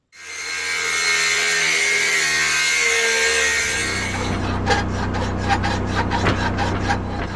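A steel rasp or file working back and forth across the metal of a hand-forged Viking war axe, continuous harsh scraping that turns into a series of distinct rhythmic strokes, loud and close with no talking.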